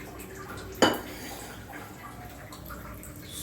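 Cooked toor dal drops into simmering tamarind water with a single sharp clattering splash from a pot, followed by a soft bubbling kitchen background.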